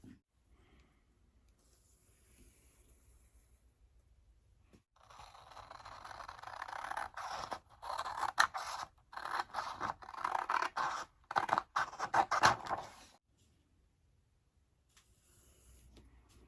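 Scissors cut through paper or card for inexpensive wall art, a run of close, crisp snipping and scraping strokes in a quiet room, with no talk.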